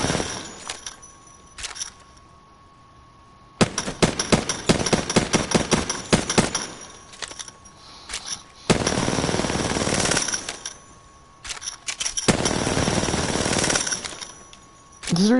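Bursts of rapid automatic fire from the R9 gun in a shooter video game, several loud runs of sharp repeated shots separated by short pauses.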